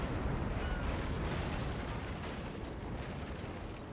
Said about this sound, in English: I guess we can kind of turn in and just start firing at them.